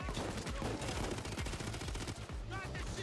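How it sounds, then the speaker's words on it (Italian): Rapid automatic gunfire in the video game Payday 2, a dense, loud stream of shots fired continuously for about three seconds with short bursts blending together. "Sparo io per te."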